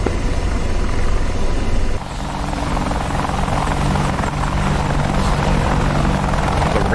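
Helicopter rotor and turbine roar from DCS World 2.8 runs loud and continuous, a steady beating drone close by that dips briefly then holds for several seconds without talk.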